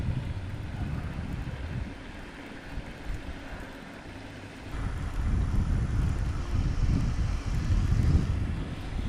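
Steady wind buffets the microphone during lure casting from a boat, a broad rushing roar that eases briefly in the middle and then swells louder again, with no voices.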